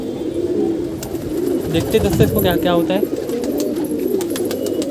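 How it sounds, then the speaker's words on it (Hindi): Wild pigeon cooing in soft repeated calls at close range, with someone talking over it throughout. "ये जंगली कबूतर है"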